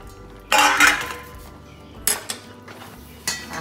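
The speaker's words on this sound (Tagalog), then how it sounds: "Haluin lang natin siya." Metal utensil scraping and clinking against a pan while stirring a sticky peanut brittle mixture, in a few separate bursts of clatter with quiet gaps between, fairly close.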